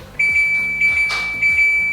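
A kitchen appliance with a timer beeps in a steady repeating pattern of bright, sharp electronic tones, fairly close and loud, with no talking over it.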